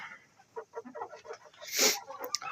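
Chickens in a coop give a few soft, scattered clucks up close, with one brief louder squawk near the end.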